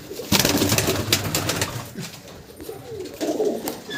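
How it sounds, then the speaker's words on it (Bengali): A pair of pigeons, a female and a male, cooing close by in low, throaty, repeated rolling coos with no talk over them. "দেখুন পায়রা দুটো।"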